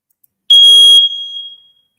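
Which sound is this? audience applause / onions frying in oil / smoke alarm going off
smoke alarm going off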